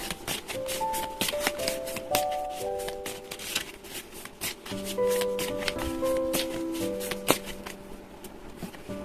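Tarot cards being shuffled by hand in a steady papery riffle and rub, with soft background music tones running underneath throughout.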